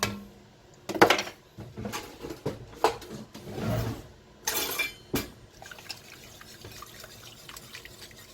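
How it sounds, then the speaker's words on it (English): A whisk stirs thick New England clam chowder in a pot on the stovetop, making wet sloshing and scraping strokes in uneven bursts, loud at first and fading to quieter stirring. "I think I might switch to a whisk."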